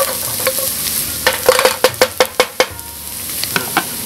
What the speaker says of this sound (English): let that garlic crisp up slightly